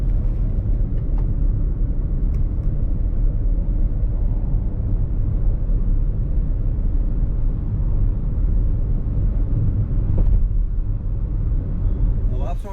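Steady low road rumble and engine drone of a 2024 Kia Sonet X-Line cruising above 70 on cruise control with driver assists on, heard from inside the car, a continuous broadband hum with faint ticks.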